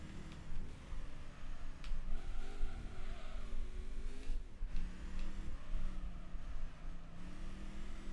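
A racing car engine in Gran Turismo 3 during a license driving test, a steady mid-pitched drone that rises and falls as the throttle is worked, with a brief lift-off and re-acceleration partway through, no talking.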